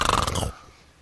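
A voice imitates snoring with a short, loud, rattling burst lasting about half a second, then falls to near silence.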